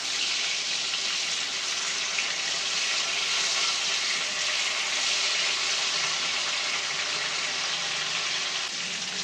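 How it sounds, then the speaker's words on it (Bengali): Steady, loud sizzling of snakehead (shol) fish frying in hot oil in a pan, a continuous hissing crackle with no pauses and no talking. "মাছগুলোকে এবার এক এক করে আমি ভালোভাবে ভেজে নেব।"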